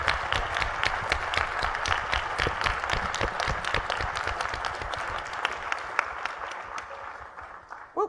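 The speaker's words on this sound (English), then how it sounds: "Can we have a round of applause" A conference town hall audience applauds, loud, crisp clapping that fills the room and slowly thins out toward the end.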